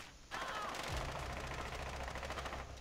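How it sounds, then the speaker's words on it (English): Rapid gunfire crackles through a Rainbow Six Siege team deathmatch on the Coastline map, a dense stream of overlapping shots at steady loudness for nearly three seconds after a brief quiet start. "Dataffa's trading shots with them."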